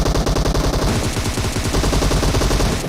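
Rapid automatic gunfire from the mobile battle royale game PUBG Mobile, a loud, dense stream of close shots firing in quick rhythmic bursts across the whole stretch.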